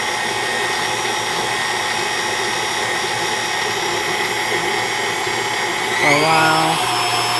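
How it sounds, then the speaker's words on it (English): Electric mixer kneading calzone dough with a continuous steady motor whine and a grinding rumble, close by, as a person talks briefly over it near the end. "I usually use this mixer."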